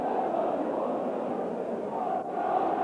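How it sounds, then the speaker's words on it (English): Large football crowd cheering in a stadium at Sunderland v Tottenham, 1990: a steady, dense roar of many voices, loud and sustained throughout with no break. "Tremendous cheer you heard there as Bennett beat Gascoigne in that tussle."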